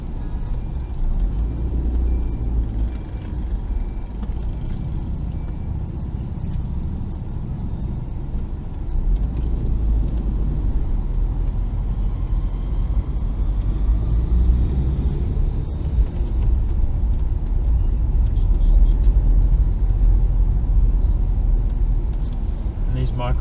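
Street traffic in Kathmandu, heard from inside a moving vehicle: a constant loud rumble of engines and road noise with passing vehicles swelling and fading, and voices talking over it.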